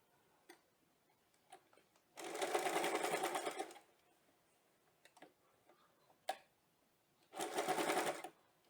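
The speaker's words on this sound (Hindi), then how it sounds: "इस तरह से हम रखेंगे और जिप को बिल्कुल क्लोज से स्टिच करेंगे।" A sewing machine stitches a zipper in two steady whirring bursts of about one and a half seconds each, with quiet ticks and clicks from handling between them.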